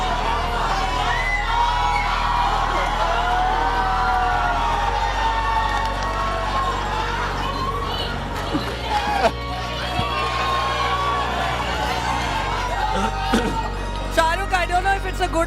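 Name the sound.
crowd of boys screaming and cheering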